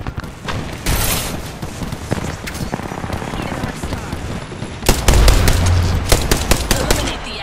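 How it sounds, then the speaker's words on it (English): A grenade goes off amid sustained gunfire in a first-person shooter video game. Rapid bursts and single shots crackle throughout, then a loud, heavy blast lands partway through, followed by more shots. "Look out, grenade!"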